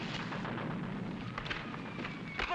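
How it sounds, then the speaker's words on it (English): Gunfire with real bullets in a 1942 army war-games setting, heard as several muffled, fairly distant shots and bursts over a rumbling background. "Somebody's using real bullets."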